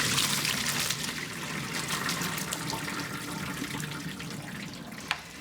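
Hot water pours from a pot as cooked potatoes are strained in a home kitchen, a loud, steady rushing splash that continues unbroken, with a small knock near the end.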